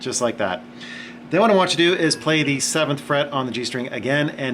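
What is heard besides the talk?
No distinct noise like a dog, phone or traffic.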